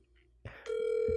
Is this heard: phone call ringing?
yes